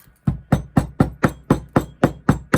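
Nine evenly spaced, sharp hammer blows compacting casting material for a sterling silver ring, thudding into the dense packed material, steady rhythm, loud and close with no talking.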